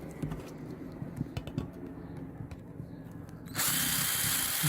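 Power tool buffing a custom side panel from a Honda CB750 motorcycle: light tapping and handling sounds, then the tool suddenly whirs into a steady, loud hiss for the final second.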